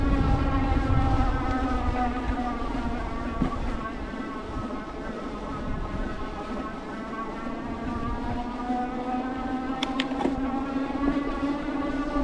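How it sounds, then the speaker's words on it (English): Aventon Level.3 e-bike's 500 W torque-sensing rear hub motor whirring steadily with a rising, sustained tonal hum while the rider pedals, continuous and fairly close throughout. "So you hear the motor pick up a little bit"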